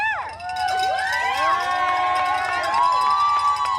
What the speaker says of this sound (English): Let's hear the cheer.